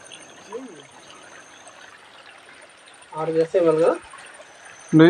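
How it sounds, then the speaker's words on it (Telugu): Water runs down from the hills near a Peddamma goddess temple in a red-hill forest, a faint, steady trickling hiss throughout, with people talking over it in bursts. "కొండ ఇవే నీళ్ళు వస్తున్నాయి"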